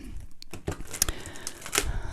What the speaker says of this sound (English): I'm trying to concentrate on shuffling the cards